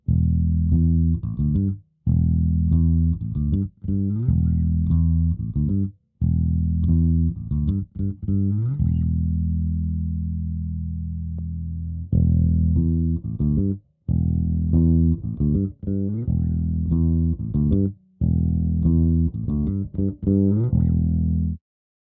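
An electric bass plays a repeating riff of deep, thick notes with one long sustained note midway, EQ cut at 500 Hz on a Fractal amp modeler; the tone sounds hollow and lacks midrange bite.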